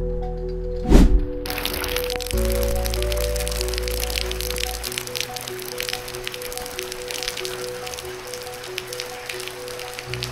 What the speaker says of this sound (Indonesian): Waduh, hujannya belum mandek juga ya.